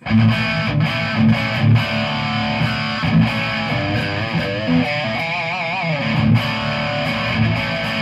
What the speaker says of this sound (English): I'm using the Marshall head, yeah, as the main distortion sound.